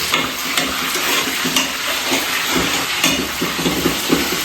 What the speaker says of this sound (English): Things are frying nicely here.